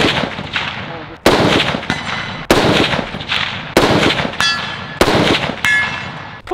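A series of loud, close gunshots strikes steel targets outdoors, about eight sharp cracks at irregular intervals, some followed by a brief metallic ring, with no talking.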